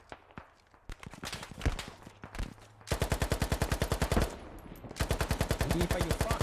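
An RPK machine gun fires in the video game Squad, starting with scattered single shots and short bursts, then breaking into long rapid automatic bursts, loud and close, alongside distant gunfire.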